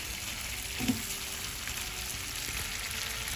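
Garlic prawns cook in salted butter in a pan, giving a faint, steady, even sizzle with one small soft knock near the start and no voices.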